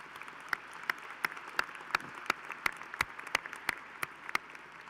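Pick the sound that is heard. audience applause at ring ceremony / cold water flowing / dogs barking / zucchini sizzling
audience applause at ring ceremony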